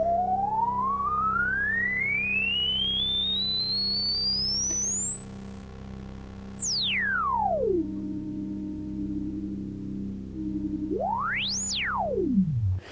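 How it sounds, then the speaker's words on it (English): Korg Minilogue synthesizer filter self-oscillating into a pure sine tone, sweeping steadily upward to a piercing peak, diving back down, holding low, then rising and falling again in a second sharp swoop over a steady hum. "Now you can get that sine wave self-oscillation for sure"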